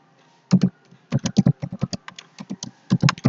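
Python code being typed on a computer keyboard, close and crisp, with keys pressed in quick irregular bursts separated by short pauses.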